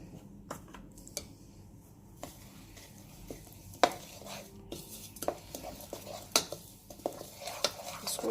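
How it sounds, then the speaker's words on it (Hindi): A thick batter of masala and egg is mixed for fried fish, with quiet, irregular taps and soft scraping of a utensil in a bowl against a low background hum. "इसको अच्छे से आप मिक्स करके एक थिक सा बैटर बना लेंगे।"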